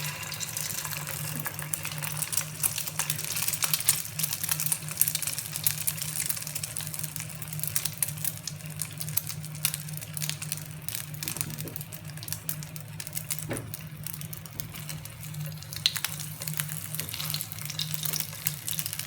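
A rice kebab, a rice cutlet, sizzles in hot frying oil with a dense, steady crackling hiss and scattered small pops throughout, close and continuous.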